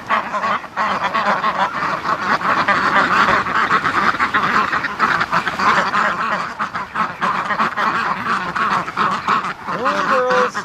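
A flock of about seventy Muscovy ducks being herded toward a lake gives off dense, continuous, loud honking and quacking close by.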